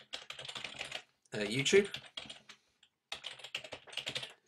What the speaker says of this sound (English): Now what I have to do here is type in my login details for